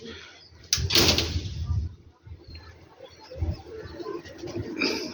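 Pigeons coo in Rawalpindi in the evening, soft low throaty calls repeated near the mic amid rustling, a thud and faint background noise.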